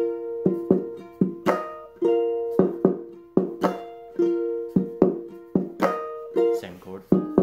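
Ukulele played slowly with a percussive strumming technique, sharp rhythmic chord strikes and body taps in a steady pulse, close and clear with no talking.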